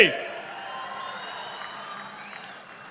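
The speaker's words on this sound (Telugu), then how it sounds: "గట్టిగా చప్పట్లు కూడా చెప్పండి" Audience applause at a political rally addressed by Chief Minister Chandrababu Naidu: a dense, steady wash of clapping from a large crowd that holds for about three seconds and fades slightly toward the end.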